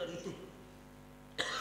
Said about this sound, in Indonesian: saya kok jadi batuk-batuk ya.